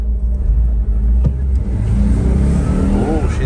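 A Volkswagen Vanagon Tristar Syncro Doka being driven, its engine a loud, steady low rumble close by with a brief rise in revs, while people talk over it.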